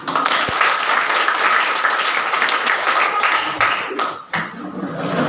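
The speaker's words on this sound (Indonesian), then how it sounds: "tepuk tangan" A class of students applauds steadily for several seconds at a high school, a dense wash of clapping that dips briefly near the end before picking up again.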